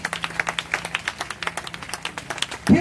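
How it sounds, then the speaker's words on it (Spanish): A church congregation at an evangelistic altar call in Bocachica claps in a steady, rhythmic beat, dense and continuous, with a louder thump at the end. "Aplauso al Señor."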